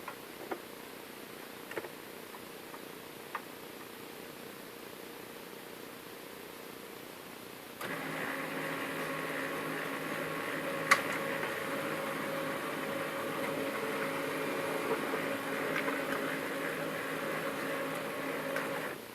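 An HP LaserJet 1320 laser printer stuck running continuously: a faint ticking idle hum, then from about eight seconds a louder steady mechanical whir with tonal motor drone that keeps going to the end, no talking.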